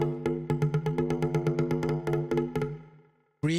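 An FM bass layered with percussion hammers out a steady, even run of pitched bass notes with crisp ticks on top, fading out near the end before a sudden loud burst returns.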